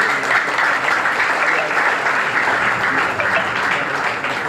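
Large audience at an organisation's foundation day event claps loudly and continuously, a thick, even roar of many hands lasting the whole stretch.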